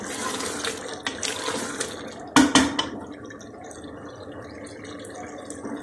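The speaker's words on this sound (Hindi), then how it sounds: "अब मैं 2 कप पानी डालने लगी।" Water is poured from a cup into a cooking pot of browned chickpeas and meat for chana gosht, a steady splashing pour that starts a few bursts of louder sloshing midway and then settles into a softer trickle.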